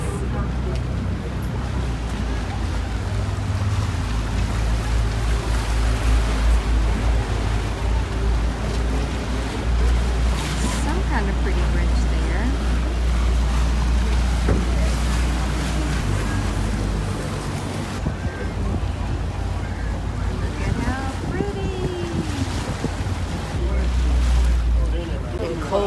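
A boat motors through Venice in the rain, its steady low engine rumble and wash of water constant throughout alongside gusting wind buffeting the microphone, with faint voices now and then.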